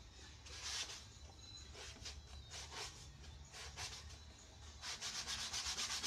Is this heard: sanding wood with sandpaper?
yes